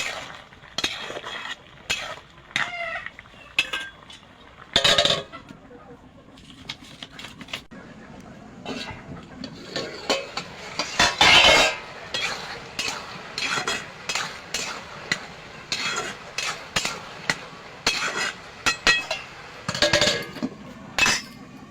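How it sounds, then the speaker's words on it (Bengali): A metal pot lid comes off and a spoon stirs radish curry, producing close, irregular clinks, scrapes and clatters with quiet gaps between them. "ঢাকনা তুলে একটু নাড়িয়ে দেবো।"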